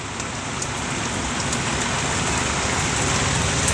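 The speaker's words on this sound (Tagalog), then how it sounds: "Sobrang lakas ng ulan." Heavy rain pours down in a dense, constant roar of drops hitting surfaces, loud and steady throughout with no voices.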